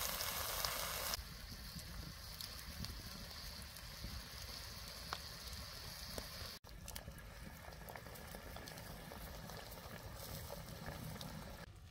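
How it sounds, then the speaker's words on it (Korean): Rice and leftover nurungji (scorched rice) boiling in a pot, a steady close bubbling and faint sizzling simmer that runs without break, with no talk over it. "누룽지에다가 쌀을 약간 넣고 끓이고 있습니다"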